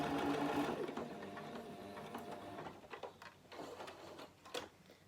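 A sewing machine stitches a narrow fabric flower stem, a quiet, close mechanical whirr at the start that slows into soft intermittent clicks and fabric handling.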